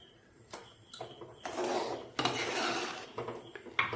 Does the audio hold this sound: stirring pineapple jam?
yes